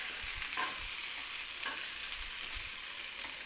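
Potato bhaji being stirred in a pan over low heat, a steady close sizzle with soft scraping strokes of the spoon repeating every second or so, no voices.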